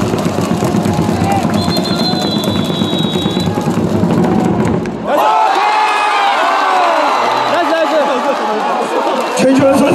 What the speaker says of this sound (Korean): 최주환 선수와 오태곤 선수에게 박수를 보내세요!